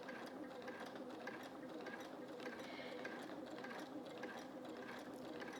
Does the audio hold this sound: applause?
no